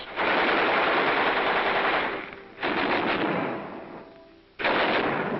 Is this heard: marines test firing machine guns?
yes